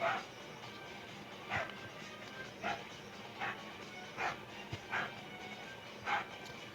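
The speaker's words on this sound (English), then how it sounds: "if you hear my dog barking, my dog Penny is barking at Sky" A dog barks repeatedly at a distance, spaced yips recurring every second or so over a steady background hum and quiet talk.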